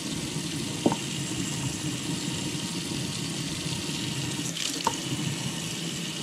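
Tap water runs steadily into a sink as a fish fillet of char, trout or salmon is rinsed under it, a continuous close splashing flow with a couple of faint knocks.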